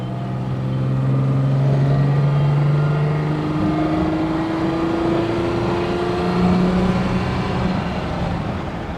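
A Fiat 130 car on the move, its engine humming steadily with gear changes and rising, sliding pitch as it accelerates, loud and close with no voices.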